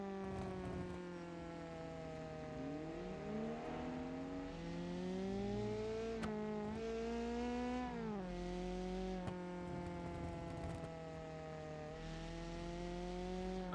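Rally drift car engine in a racing video game, droning steadily with rising and falling revs and several sharp pitch sweeps as it accelerates and shifts, loud and continuous with no talking over it.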